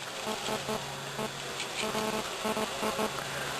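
A swarm of honeybees shaken into a Bee Buddy hive keeps up a close, continuous buzzing drone, with pulsing swells as the insects fly about.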